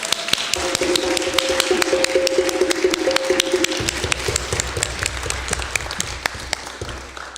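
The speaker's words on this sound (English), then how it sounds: "Can we just get a tiny round of applause for the live stream team?" Applause from an audience at a talk on disability and love, crisp individual claps layered over a steady patter with a held tonal whine early on, continuing evenly at moderate loudness.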